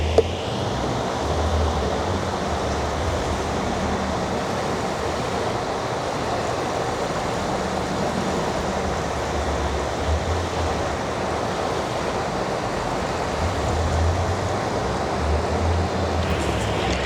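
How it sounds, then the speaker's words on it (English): Water from a hose sprays steadily onto newly planted sweet potato slips in an urban garden, a continuous, close rushing hiss that holds for the whole stretch. "I'll water these in."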